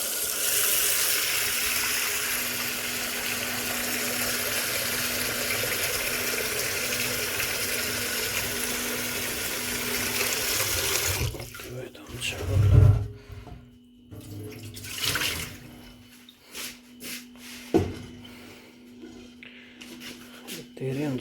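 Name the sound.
tap water filling a pot for boiling thukpa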